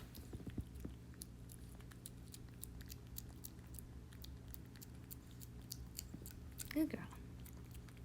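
A pet chewing and eating food spread out on a plate, with soft, faint, close crunching and biting clicks in a steady patter through quiet room noise and one louder thud near the end.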